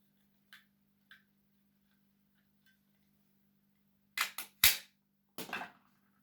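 A stapler fastening a rubber band onto a kitchen towel mask, with a few faint clicks first and then a cluster of sharp, close snaps in quick succession.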